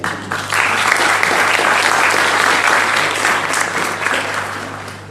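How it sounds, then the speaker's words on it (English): Audience at a national seminar on democracy at FCC University gives a round of applause for the guests: dense, steady clapping from a full hall that holds for about five seconds and eases off slightly at the end, over a low steady hum. "I would like all my guests to have a round of applause from our audience."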